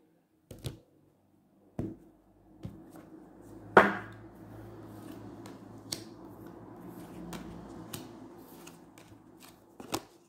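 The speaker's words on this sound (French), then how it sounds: "je vais faire une petite coupe et je vais prendre 3 cartes" A deck of cards is cut and three cards are drawn, heard as a handful of sharp, close snaps and slaps spaced out over a soft steady shuffling rustle, in an otherwise quiet room.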